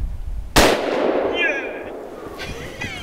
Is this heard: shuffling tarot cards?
no